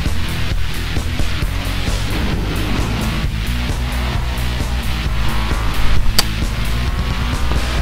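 Race cars roar through a FlatOut 3 driving game, engines droning loud and continuous with shifting revs, a few tire squeals and crashes, and one sharp impact near the end.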